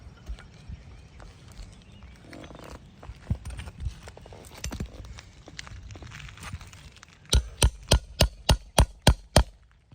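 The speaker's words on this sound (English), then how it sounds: "Using our nail puller, shingle hammer." Shingle hammer and nail puller striking asphalt roof shingles during a roof repair test: scattered knocks and scrapes, then a run of eight sharp, evenly spaced hammer hits close by near the end.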